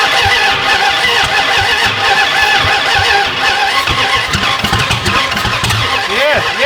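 A drag car engine cranks and fires up loudly nearby, catching into rough, revving bursts with rising pitch sweeps toward the end, while people talk over it.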